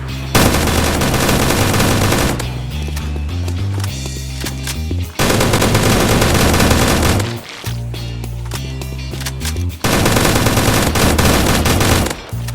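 FN FAL rifle fire from a Minecraft gun addon, loud rapid bursts of automatic shots in several long strings separated by brief pauses.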